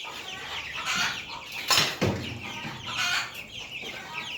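Chickens in a deep-litter hay coop cluck and squawk close by in short agitated bursts, with a sharp loud noise partway through and some voice in the background.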